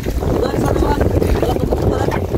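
Wind gusts buffet the microphone in a constant, loud rumbling roar throughout.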